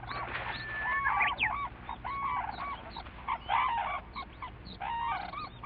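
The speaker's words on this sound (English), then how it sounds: "the pair will burst into sound, each bird alternating its cry so that together they create the characteristic" A pair of cranes in Japan call back and forth in alternation, repeated bugling honks trading quickly over several seconds, heard at a middle distance over a low steady rumble.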